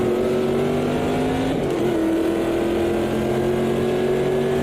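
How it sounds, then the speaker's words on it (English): A V8 race car engine in the Automobilista 2 racing game snarls continuously, holding a loud steady tone that dips briefly during a shift before climbing again. "Snarling V8."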